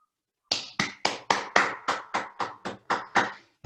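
Applause at an evening gathering, heard as a steady run of about a dozen loud, evenly spaced claps that sound like one or a few people clapping at a slow, regular pace, with no voices.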